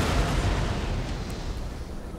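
Artillery cannon fire in a Napoleonic battle video game, set at the Battle of the Pyramids: a loud, dense boom rolling into sustained low rumble and crackle that fills the whole stretch, with no distinct separate shots and no talking.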